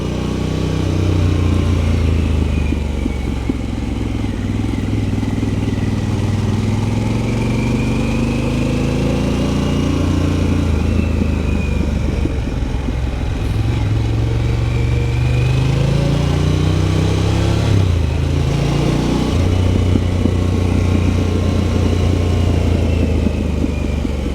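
Motorcycle ridden fairly quickly for a motovlog, the engine droning loud and steady with rising and falling pitch as gears change, heavy rushing wind throughout and no talk.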